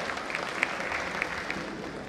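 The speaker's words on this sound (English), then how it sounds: "Please give them a huge round of applause" A crowd applauding newly introduced anchors at a live stage event, with steady, moderately distant clapping that holds an even level throughout.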